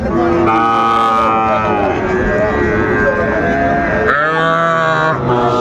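A bull calf moos loudly and repeatedly at a busy cattle market in Mymensingh, its long lowing calls close and continuous over a constant crowd murmur and other animal sounds.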